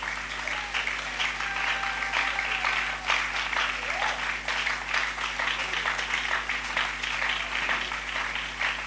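Applause from a church congregation during a French-language sermon, a steady dense clatter of clapping that holds for the whole stretch with faint voices mixed in.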